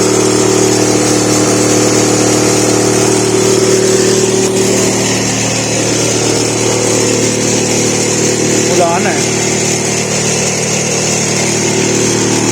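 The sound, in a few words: motorcycle engine struggling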